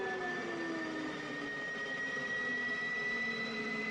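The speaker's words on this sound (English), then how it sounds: "we're going to be monitoring the hydraulic, the power, and the oil pressure while the engines are being spooled up." F-15E twin jet engines spool up in the DCS World flight simulator, a steady close whine with rising tonal pitches layered over a broad turbine rush, no voices.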